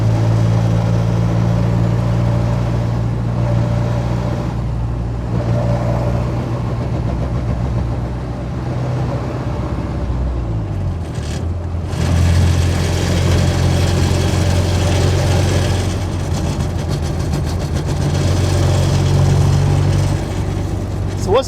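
A diesel Jeep Wrangler YJ engine drones steadily while driving along a country road, a continuous low rumble with slight shifts in pitch as it changes speed, mixed with road and wind noise inside the cabin.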